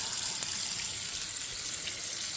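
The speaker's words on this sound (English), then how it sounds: "Just browning the meat." Beef cheek meat browns in a pan with a steady, fairly quiet sizzle and a few faint clicks from a utensil, no voices over it.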